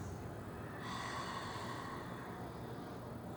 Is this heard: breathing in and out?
yes